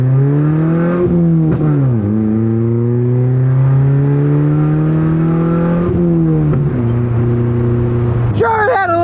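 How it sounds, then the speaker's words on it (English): Straight-piped 151-horsepower car with a high-mileage engine accelerating hard down a small drag strip, a loud sustained exhaust drone rising in pitch through several gear changes, with crackling backfires near the end. "So we'll take it to our little drag strip here, and we'll see what this 151 horsepower can do."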